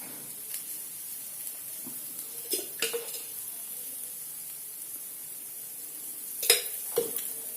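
Food sizzles steadily in hot oil in a pan while cooking a breakfast dish, a continuous close hiss with a few louder spits and crackles and occasional stirring scrapes.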